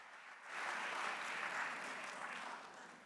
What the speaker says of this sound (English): Let's give a round of applause to Ntatela Kikubeka